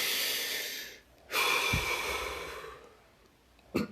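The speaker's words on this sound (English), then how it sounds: "Deep breath." A long deep inhale followed by a slow audible exhale, close and alone, then a short sharp sniff at the end.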